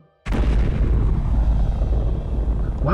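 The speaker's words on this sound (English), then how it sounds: "What was that explosion?" A sudden, loud explosion in a video game bursts in after a brief quiet moment and rolls on as a dense, sustained rumble with no let-up through the rest of the clip.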